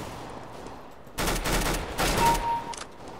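UMP-45 submachine gun fire in Counter-Strike: Global Offensive: two loud, close, rapid bursts of shots, each about half a second long, over quiet background game ambience.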